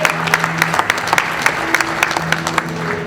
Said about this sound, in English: One more round of applause here for Craig Thatcher.